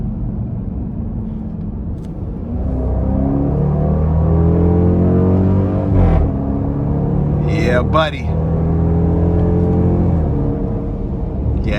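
A 2024 Dodge Durango R/T with a 5.7 V8 and aftermarket exhaust pulls hard under acceleration, its deep engine note climbing steadily through the rev range. Loud and close inside the cabin, with a voice speaking briefly over it.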